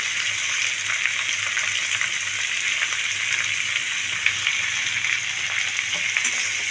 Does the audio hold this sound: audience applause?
no